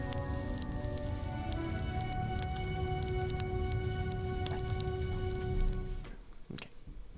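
Continuous bubbling, gurgling texture woven through a song with steady sustained tones, filling most of the stretch at even loudness before dropping to a thinner, quieter tail near the end.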